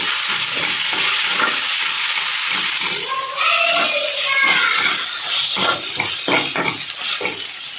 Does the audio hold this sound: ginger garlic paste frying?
yes